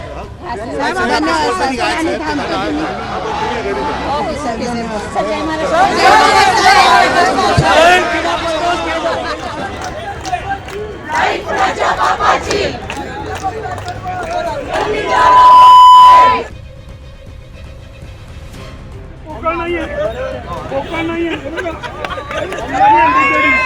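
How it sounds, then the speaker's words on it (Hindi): A crowd of Shiv Sainiks gathers outside Matoshree in Mumbai, shouting slogans and chattering in a loud, dense roar that rises and falls, with voices and a brief electronic tone breaking through. "ये भीड़ है शिव सैनिकों की।"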